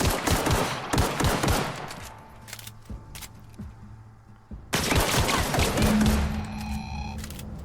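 Rapid gunfire in The Outer Worlds, aimed at a creature's stomach: dense loud volleys of shots, a brief lull with scattered pops, then another heavy burst with electronic tones rising over it.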